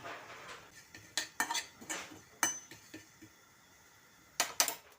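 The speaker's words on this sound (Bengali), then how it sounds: "এখানে 1 চামচ মৌরি নিয়ে নিয়েছি। মৌরিটা ভেজে নেব।" A spoonful of fennel seeds dry-fried in a pan, heard as sparse sharp clinks and scrapes of a utensil against the metal pan, with short quiet gaps between them.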